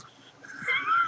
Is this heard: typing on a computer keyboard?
no